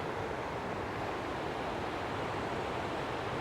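Steady broadband rush of a waterfall on Marble River on Vancouver Island, a continuous loud wash of falling water with no breaks, heard alone without voices.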